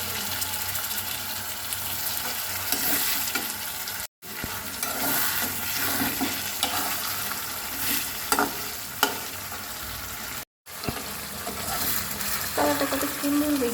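Dried red chillies and meat cooking in a pan give a steady, fairly loud frying sizzle with stirring scrapes throughout, broken by two brief silences.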